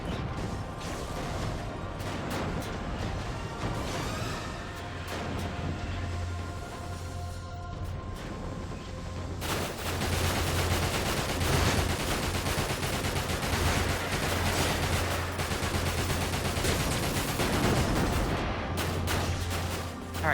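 A relentless barrage of enemy gunfire in the Final Fantasy VII game Dirge of Cerberus, with dense rattling shots and crashes running loud and unbroken throughout, growing heavier midway.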